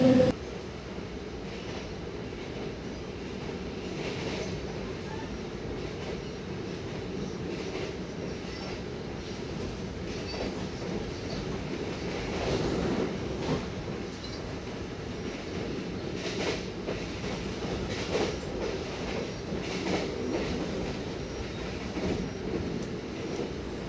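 Inside an Argo passenger train running at top speed between Indramayu and Brebes, a steady low rumble of wheels on rails continues throughout, moderately quiet, with faint rhythmic clatter and no voices.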